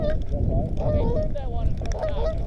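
Geese honking repeatedly nearby during a snowy duck and goose hunt, several overlapping calls over a low rumbling background.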